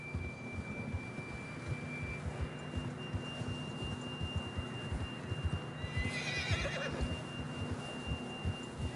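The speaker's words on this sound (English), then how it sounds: "John was riding that horse when we left Blackwater." A horse whinnies briefly over a steady rhythm of hoofbeats in the video game Red Dead Redemption 2, with a thin electronic tone humming throughout.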